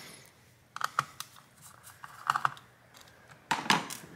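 An Acer Aspire One laptop's plastic case pried open by hand, giving a series of sharp plastic clicks and snaps in small clusters, close and fairly quiet, with no talking.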